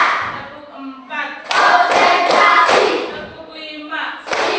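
A group of people clapping in counted, rhythmic bursts during a classroom-style focus exercise, loud bunched claps falling in quick sets with a little voice beneath.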